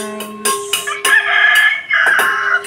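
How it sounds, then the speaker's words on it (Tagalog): Chickens cluck and a rooster crows nearby, a busy mix of fowl calls overlapping with no talking, with birds in the roof. "Mga ibon. Ang mga ibon-ibon."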